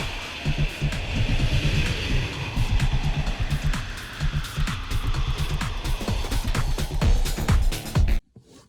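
An off-road vehicle with a throttle controller in crawl mode grinds up a rock step, its engine rumbling at low revs amid scraping, clunking and crunching, loud and close, then cutting off abruptly near the end.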